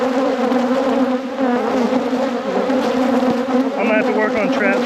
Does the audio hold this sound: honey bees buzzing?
yes